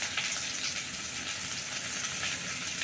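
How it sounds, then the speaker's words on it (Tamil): Garlic sautés in hot oil, giving a faint, steady crackling sizzle throughout with no voices. "எண்ணெயிலே நல்லா வதங்கட்டும்."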